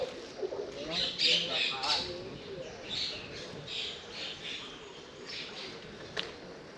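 Several birds squawk and chirp in scattered bursts over a steady outdoor wash of flowing water on a Bangkok canal, with a faint voice now and then.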